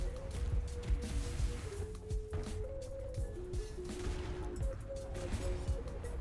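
Temporal Cascade explosions from a Sentinel build in the action RPG Last Epoch pop and crackle in rapid clustered bursts over a steady tonal music bed, fairly quiet throughout.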